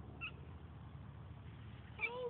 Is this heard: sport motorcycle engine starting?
no